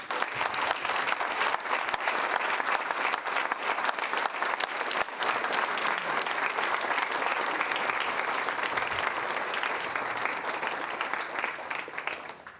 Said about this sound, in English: Please join me in giving our veterans, especially our World War II veterans, and tonight's presenters a round of applause.